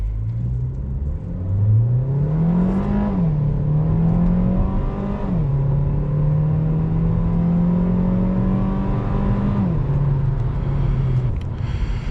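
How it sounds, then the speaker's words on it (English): A 2023 MG GT sedan with a 1.5-liter turbo four-cylinder and seven-speed dual-clutch transmission accelerates on a test drive. The engine drone rises through gears with clear shift drops, heard steadily from inside the car. "So let's drive the MG GT."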